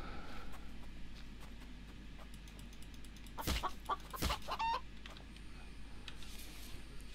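Chickens cluck in The Infected video game, a few short clucks near the middle of the clip, moderately clear over a steady low background hum, with no talk.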